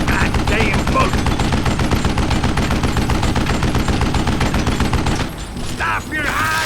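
Rapid, relentless gunfire from the Western shooter Call of Juarez Gunslinger, with loud overlapping shots packed tightly together. The barrage breaks off briefly near the end before more shots and ricochet-like whines.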